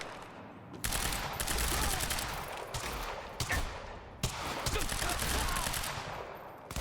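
Rapid bursts of automatic gunfire in the shooter game Quantum Break, played on Xbox Series X, loud and dense with several sharp single shots breaking the steady rattle.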